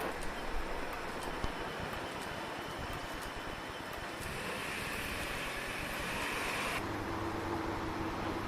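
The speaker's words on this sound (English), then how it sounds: "To leave for the Rhineland, boarding the intercity train again." An intercity train rolling along, a steady, broad rumbling roar with faint rhythmic clacks, heard from inside at moderate level, the tone shifting slightly partway through.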